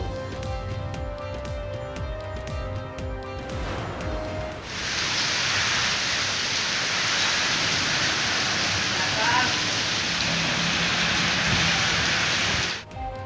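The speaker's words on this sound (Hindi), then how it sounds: "मुल्क भर में तूफानी बारिशों की इनिंग्स जारी।" Heavy storm rain pours down in a steady, dense hiss lasting several seconds, following a stretch of broadcast music and voices at the start.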